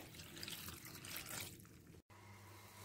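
Water pours softly and steadily into spinach and lentils for keerai kootu, a faint, continuous splashing that ends in a brief cutoff before a quieter trickle.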